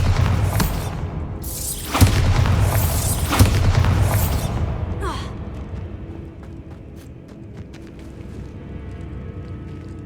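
A Bombarda blasting spell goes off in the Hogwarts Legacy video game, a loud booming burst with a whooshing crack, followed by a second blast and rumbling debris that fades into quieter game ambience.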